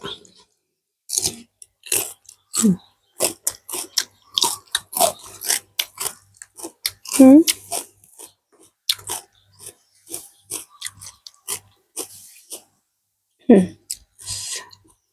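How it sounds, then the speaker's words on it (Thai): Close, crisp chewing and biting while eating Thai beef curry with sour bamboo shoots and Isan-style scrambled egg, a steady run of wet crunches and mouth clicks with brief pauses and no talk. "ขออนุญาตกินก่อน"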